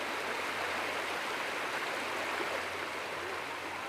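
A river in Vanuatu flows with a steady, dense rushing wash that stays constant and fairly close throughout, with no voices.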